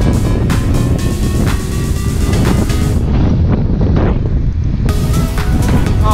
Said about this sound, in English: Oh, she's a bit windy.